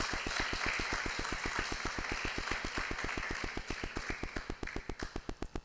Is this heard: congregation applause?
yes